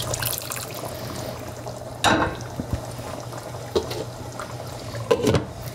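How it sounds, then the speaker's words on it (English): Water splashing into a pot of simmering lamb stew with green beans, with a bubbling background and a few brief pours and splashes in a home kitchen. "Maybe we have to add a little bit of water."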